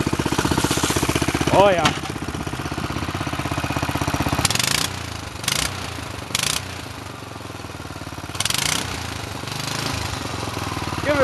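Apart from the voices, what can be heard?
go-kart engine cold start and running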